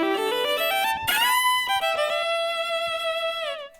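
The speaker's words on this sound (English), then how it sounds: "it's got a really neat slapback delay" A bright NS electric violin plays a short run of notes through a slapback delay, each note followed by a quick single echo that gives a doubled, retro bounce, ending as the tone fades out.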